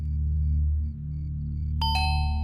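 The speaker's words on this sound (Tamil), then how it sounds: "காலிங் பெல் அடி." A two-tone doorbell chime rings out once, bright and clear over a steady low hum, its tones lingering briefly.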